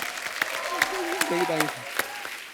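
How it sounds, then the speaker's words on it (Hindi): Studio audience clapping on a Hindi TV comedy talk show as a film director walks on, a steady wash of applause with a host's voice calling out over it. "जोरदार तालियां मिलाप के लिए"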